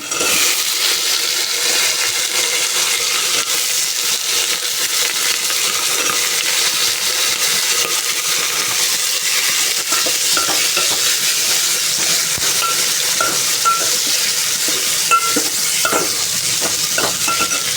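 Drumsticks go into a frying pan and are stirred, making a loud, constant sizzle broken by frequent scraping and clattering spoon strokes against the pan.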